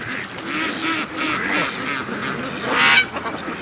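Muscovy ducks and brant geese call from an icy creek, a steady chorus of soft quacks and honks at moderate distance with a louder burst of calls near the end.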